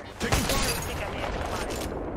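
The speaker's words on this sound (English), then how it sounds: "Contact with hostile. Firing. Taking fire, brothers." Rapid gunfire in the Apex Legends battle royale game, a dense continuous burst of shots with a person talking over it throughout.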